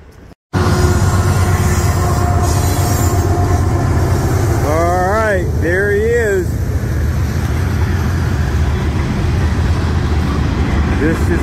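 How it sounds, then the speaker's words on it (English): Freight train rolling past up close in soaking rain, steady broadband rumble and rail noise throughout, with a few wavering horn-like squeals in the middle; talking is also faintly present. "This is my train,"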